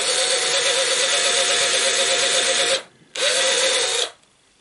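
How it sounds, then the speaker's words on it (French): Power drill pre-drilling pilot holes in wood for a Dadant 10-frame beehive frame cover, a loud steady whine running about three seconds, a brief pause, then a second shorter burst before stopping, with no talk. "Un petit pré-perçage et après on visse."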